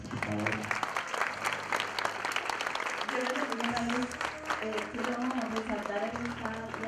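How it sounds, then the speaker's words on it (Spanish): Guests at a graduation ceremony break into applause for a graduate, a sustained round of clapping heard under music and voices, with a spoken word over it. "Los aplausos no se hicieron esperar."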